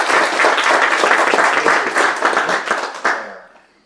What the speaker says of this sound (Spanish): Le doy una bienvenida con un aplauso.